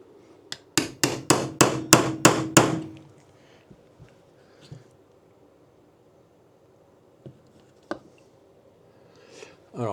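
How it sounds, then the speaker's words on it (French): A small sledgehammer strikes a pin punch while a Walther match trigger is being fitted: about seven quick, sharp metallic blows in a row, then a few fainter scattered taps and handling noises. "un grand coup sec avec la petite massette"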